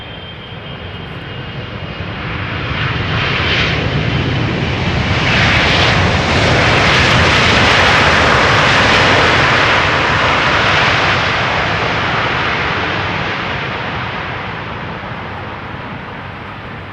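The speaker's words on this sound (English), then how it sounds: "KLM Flight 622, arriving from Atlanta, Georgia," A KLM Boeing 777-300 arriving at Schiphol's Polderbaan from Atlanta passes close and loud, its jet engine roar swelling from a distant hum to a strong peak midway, then slowly fading, with no voices.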